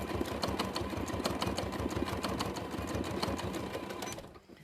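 A sewing machine stitches pieces of a horse quilt collage with a steady, rapid, close-up run of needle strokes that stops just before the end.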